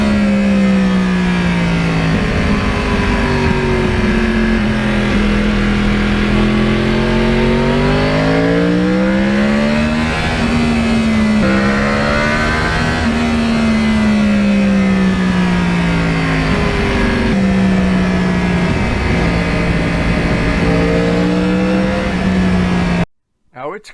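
A Yamaha R1 crossplane sport motorcycle engine roars loudly and continuously, pitch climbing and dropping repeatedly as it accelerates through successive gears, with a brief abrupt cut at the very end.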